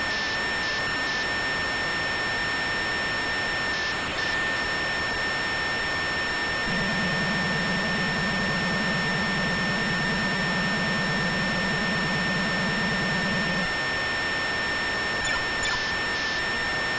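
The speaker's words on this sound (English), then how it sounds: "the sounds are pretty basic, though the jet noise sound is fairly convincing" Synthesized jet engine noise from a 1985-era MSX video game plays as a constant hissing roar with a steady high electronic tone. A buzzing drone joins partway through, and brief chirpy blips occur now and then.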